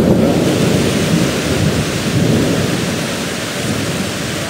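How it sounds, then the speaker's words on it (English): Heavy rain falls steadily during a days-long wet spell, a dense, loud hiss with low rolling thunder rumbling underneath throughout, no voices. "Outside, I'm filming like day 9 of rain."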